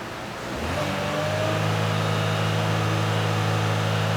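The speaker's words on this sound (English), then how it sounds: "Watch what happens when I rev up the RPM a little bit" A car engine with a suspected P0011 cam phaser fault rises from idle to about 1500 RPM, settling into a steady, loud, close mid-pitched hum.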